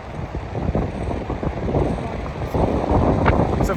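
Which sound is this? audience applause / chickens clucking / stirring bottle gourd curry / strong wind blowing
strong wind blowing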